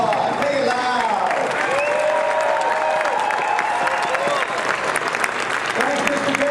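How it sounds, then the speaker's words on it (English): Audience applause fills a tournament opening ceremony in Phoenix, Arizona, a steady dense clapping from a large crowd that holds loud and near throughout, with some voices mixed in underneath. "Give those guys another big round of applause."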